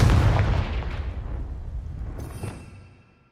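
A Confringo blasting spell explodes in Hogwarts Legacy, a single loud close blast that rolls into a rumbling decay and fades to quiet over a few seconds, with no talking.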